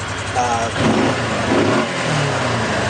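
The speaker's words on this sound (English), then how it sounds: "Takes throttle well, just really runs nice." A 2015 Kawasaki Teryx Camo fuel-injected side-by-side engine revs up and settles back in two swells, loud and close, under a voice.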